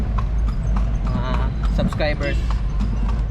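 A horse pulls a tartanilla carriage through Cebu, its hooves clip-clopping steadily beneath nearly continuous talk and a constant loud traffic rumble.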